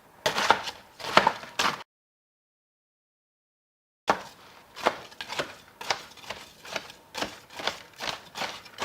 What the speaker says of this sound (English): So here are the eggs all in the bowl, and I'm just going to mash them up.